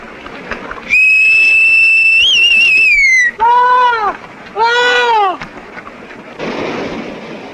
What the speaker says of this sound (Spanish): Un silbido alborotó las mulas y Boqueperra cayó al suelo.